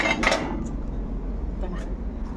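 Vegetable chips clink and rattle onto a plate with a few light, brief ceramic taps, fading to quiet shuffling afterward.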